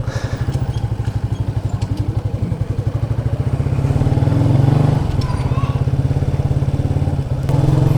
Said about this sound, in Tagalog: parang hirap na yung makina kasi nasa third gear pa tayo